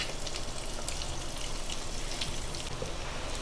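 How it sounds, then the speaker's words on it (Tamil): Onions sauté in oil in a pan for an eggplant kuzhambu, giving a steady, even, close sizzle like light rain with no pauses or voices. "நல்லா வதக்கிக்கலாங்க. வெங்காயம் நல்லா வேகட்டும்."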